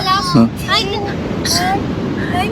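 Sea waves wash in steadily at Bekal beach, a broad rushing surf mixed with gusty wind buffeting the microphone, while a person talks close by over the noise.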